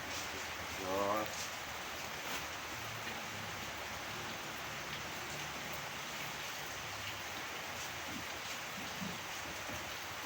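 Rain falls steadily as a soft, even hiss of drops on surfaces, faint and continuous, with a brief voice near the start.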